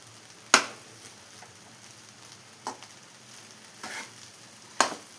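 A soft, steady sizzle of egg rice frying in a pan while pepper powder is mixed through, broken by a few sharp scraping clatters of the spatula, close and fairly quiet.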